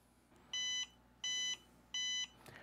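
A TOOCAA L2 laser engraver sounds an alert after its safety key is removed: three evenly spaced, bright electronic beeps, close and clear over a faint background hum.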